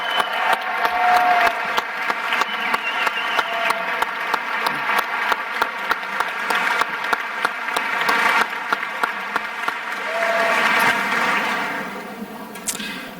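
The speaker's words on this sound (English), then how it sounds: "another nice, wonderful round of applause for a high school orchestra under the direction of Miss Nancy Tarente" A large crowd at a 2019 high school graduation applauds the school orchestra, a dense, continuous wash of clapping that holds steady, swells again near the end, then fades.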